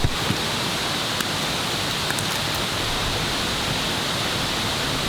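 A waterfall pours over rocks in a steady, dense broadband rush with no break, close and loud, with no voices.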